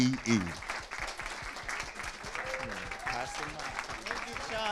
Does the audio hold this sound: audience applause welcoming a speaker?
yes